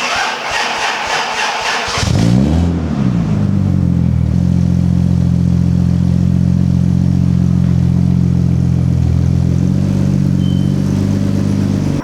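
A Toyota Supra engine cranks with a rapid starter whir for about two seconds, then catches and settles into a loud, steady, close idle that holds evenly to the end.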